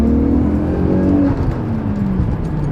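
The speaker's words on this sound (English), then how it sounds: "let's take it for a drive and set up the boost controller" A turbocharged car drives at a drifting test track, its engine droning loud and close with a slowly falling pitch for a few seconds.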